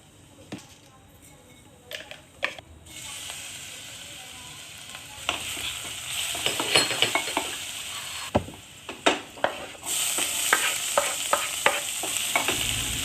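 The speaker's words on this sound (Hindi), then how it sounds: "मैंने सिंपल हींग, जीरा, लहसुन, प्याज का तड़का लगाया" Asafoetida, cumin, garlic and onion frying in hot oil for a tadka, with a steady close sizzle that swells louder midway, broken by scattered stirring scrapes and clinks of a spoon against the pan.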